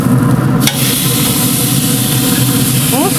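Food sizzles and fries steadily on a Pit Boss 1600 griddle as it is flipped, a dense continuous hiss with a brief scrape near the start.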